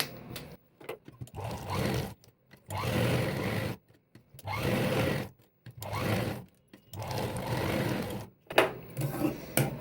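A sewing machine stitches a cotton piece onto a blouse back neck in repeated bursts of rapid whirring, each run lasting about a second or two and separated by short pauses, close and clear with no talking.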